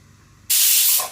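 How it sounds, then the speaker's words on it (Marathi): A pressure cooker lets off a sudden loud steam hiss that bursts in after a quiet moment and holds steady, then fades slightly at the end. "तिकडे कुकर शिटा झाला"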